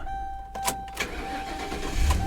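A 2009 Ford Crown Victoria police car engine cranks with a couple of short bursts, then catches and settles into a steady run, with a faint constant whine in the background.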